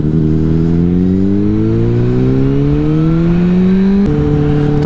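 A motorcycle engine revs upward on a wet road during a rear-wheel power slide, the loud rising note climbing steadily before a sharp shift near the end, with heavy wind rush throughout.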